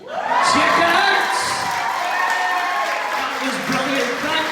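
An audience at a comic con breaks into loud applause and cheering that swells quickly and stays steady, with whoops mixed into the clapping and a voice talking over it.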